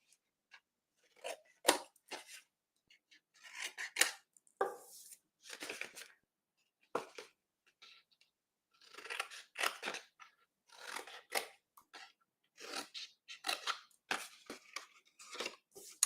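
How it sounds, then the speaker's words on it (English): Scissors snip up the score lines of a paper craft box, making quiet, close, crisp cuts in irregular bursts separated by short pauses, with no voice. "We're just going to snip up the side score lines, keep the long section straight, and just angle cut the tabs."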